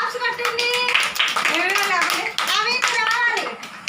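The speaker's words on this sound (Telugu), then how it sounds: "క్లాప్స్ కట్టండి" Young children clap their hands at an Anganwadi centre, rapid patter of many small hands mixed with children's voices and chatter nearby.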